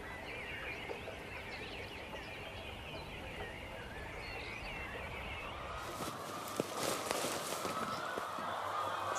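Hens' calls and honking fill the clip on a Swiss farm in the morning, a busy flock clucking continuously, growing denser and louder in the final few seconds.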